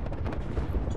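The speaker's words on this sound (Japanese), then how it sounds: "なんか銃声聞こえるな" Low, rumbling bursts of distant gunfire in Apex Legends on Switch, several muffled shots blending into a dull, continuous thud.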